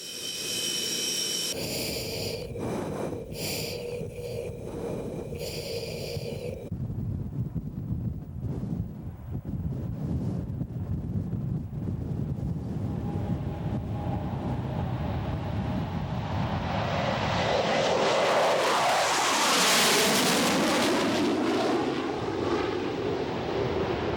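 A Russian military jet roars down the runway on its takeoff roll, engine noise building steadily under rushing wind buffeting the microphone, swelling to a loud, rising whine near the end.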